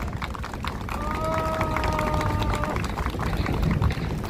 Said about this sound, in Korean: 다시 한번 격려의 박수, 응원의 박수 부탁드리겠습니다